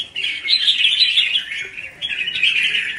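A red-whiskered bulbul sings loudly and close, pouring out bright twisting warbled phrases in two bursts separated by a brief pause, with no voices.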